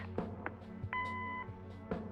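A single steady electronic voicemail beep from the Kathy Rain video game sounds for about half a second, clear and fairly loud, with soft muffled noises around it.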